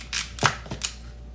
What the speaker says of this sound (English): you're gonna get your sharp knife and you're gonna cut the bottom